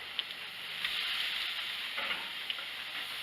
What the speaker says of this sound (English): Now I'm going to try to get a little bit of a sear on these here.